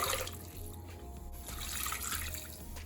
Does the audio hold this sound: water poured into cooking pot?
yes